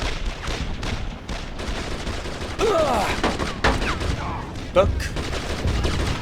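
Heavy gunfire in a Brothers in Arms firefight, layered rifle and machine-gun bursts with sharp cracks and distant booms, loud and continuous, while someone briefly speaks over it.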